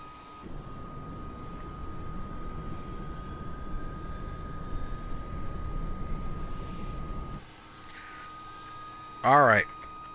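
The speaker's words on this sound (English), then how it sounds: "And starting the left engine" Left engine of a CH-47D Chinook helicopter spooling up at startup in MSFS 2020, a steady broadband turbine rumble and whine that holds for several seconds, then drops away abruptly, followed by a brief warbling electronic tone.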